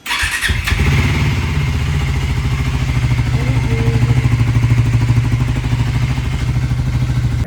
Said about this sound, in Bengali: কোল্ড স্টার্টটা মারি, কোল্ড স্টার্ট করে গ্যারেজ অবধি যাই বাইকে করে।